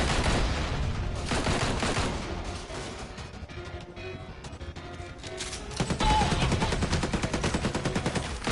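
Rapid sustained gunfire rattles in the action game Marvel Heroes Omega as barrels are shot, bursts of loud automatic fire that ease briefly midway before surging again.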